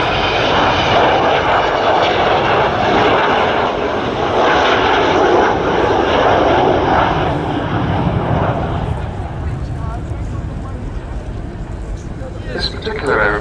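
Avro Vulcan XH558 bomber jet passes overhead at the RIAT airshow at RAF Fairford, a loud, dense, roaring engine rumble that holds steady then slowly fades, with a commentator talking over it.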